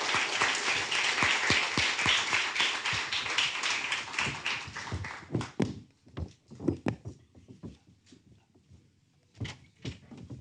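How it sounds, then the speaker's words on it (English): Audience applause at a city council meeting in Carson, California: dense, steady clapping from a crowd for about five seconds, then thinning into scattered individual claps and taps until it fades. "give Dr. Clara Johnson a round of applause"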